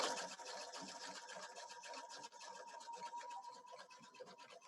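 A sewing machine sewing a satin-stitch applique, with a fast, even mechanical needle chatter that runs continuously at low volume and has no talk over it.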